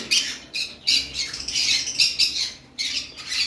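A pair of double red pet birds squawk loudly and close by in repeated harsh bursts, with short pauses between calls and no talking.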